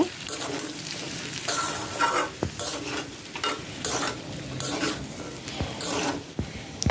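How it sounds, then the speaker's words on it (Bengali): Vegetables seasoned with salt and turmeric get stirred in a hot pan, a continuous close scraping and rustling over a bright sizzle, with a few sharp utensil knocks against the pan and no speech. "সবজিগুলোকে আমি একটু নাড়িয়ে নেব"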